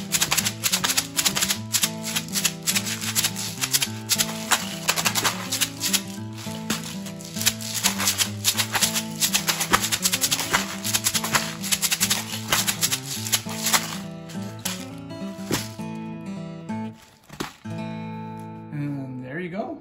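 Homemade maracas with taped handles shaken in a rapid, steady rattle of dense, dry clicks and scrapes that runs loud and continuous for most of the time, then thins to scattered shakes near the end.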